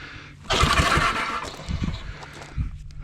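A Roto-Hoe garden tiller engine cranks with little or no throttle, a rough sputtering roar rising abruptly, chugging unevenly for a couple of seconds and then dying down, close by.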